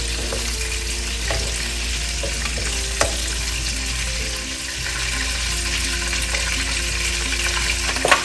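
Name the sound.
shrimp frying and being stirred in oil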